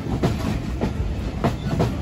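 Riding aboard Bangladesh Railway's Rupsha Express, a continuous rumble of the moving carriage is punctuated by rhythmic clickety-clack bursts as wheels cross rail joints, several beats within a couple of seconds.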